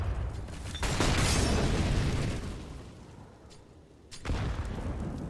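A grenade goes off on the Vertigo map in Counter-Strike: one loud, broad blast with a long rumbling tail, and a second sharp burst near the end of the clip.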